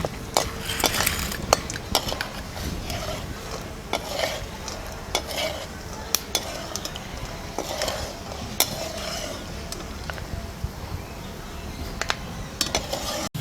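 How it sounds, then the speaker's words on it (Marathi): Peanuts frying and being stirred in a pan for Nagpur-style tarri poha, a steady close sizzle broken by repeated sharp scrapes and clinks of a spoon against the metal pan, with no talking. "आधी शेंगदाणे तोडून काढते."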